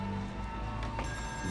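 Telephone ringing in a video game, a steady electronic tone repeating through the short span, under a faint voice.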